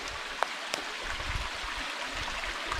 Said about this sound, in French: on est passé au-dessus de la cascade pour filmer un peu